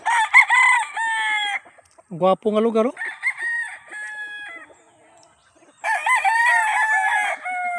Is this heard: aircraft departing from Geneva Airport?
no